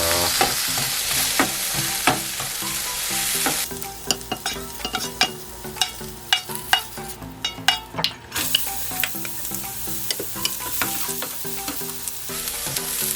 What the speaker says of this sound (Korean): 아주 계속 볶다 보면 연해질 때까지 계속 볶습니다